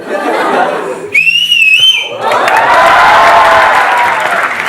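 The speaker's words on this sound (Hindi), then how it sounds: "सर आपके लिए एक सीटी मारना चाहती हूँ" At a large live talk event, a woman in the audience gives a loud, sharp, wavering whistle lasting about a second, then a big indoor crowd bursts into sustained cheering and applause that fills the room, with noisy chatter before it.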